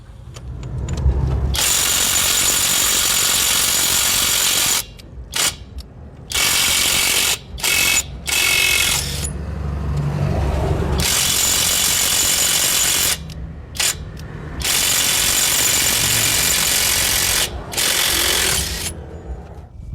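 STR 21V ST-780 cordless impact wrench hammering loose pickup truck wheel nuts, loud repeated rattling bursts of a few seconds each separated by short pauses, with no talking.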